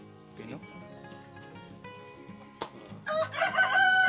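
Chickens on a layer farm raised as brown-egg layers cluck and call close by, with a rooster crowing loudly near the end, while people talk over the flock.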